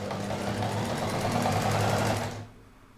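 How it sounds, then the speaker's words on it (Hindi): An electric sewing machine stitches the hem of a tulip-style salwar. It gives a close, rapid, even mechanical chatter for just over two seconds, then stops abruptly. "पांचे की सिलाई हमारी लग चुकी है।"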